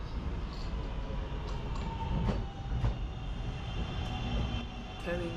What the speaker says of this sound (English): Carrying us today will be a Northern Class 323, known for its iconic acceleration sound